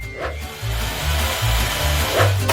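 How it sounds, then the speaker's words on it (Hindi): An electric drill runs steadily for a couple of seconds, a loud continuous whirring grind close by with slight rises in pitch, and no talking over it. "मैं यहाँ सब ड्रिल करूँगी"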